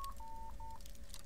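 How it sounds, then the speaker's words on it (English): A phone gives a few short, faint electronic beeps in quick succession over steady background noise during a Skyrim game session. "There's my phone making noises"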